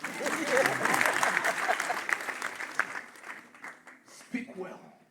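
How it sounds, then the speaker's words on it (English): Audience at a Macmillan Technical College graduation ceremony in Kasarani breaking into loud applause that thins out and fades to scattered claps by the end. "clap if you're clapping"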